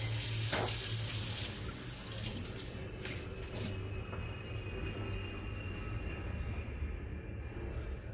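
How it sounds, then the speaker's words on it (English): Water runs steadily from a kitchen tap as hands are washed at the sink, a continuous broadband rush with a low hum underneath and a few brief splashes, fairly close and with no talking. "Wash my hands real quick"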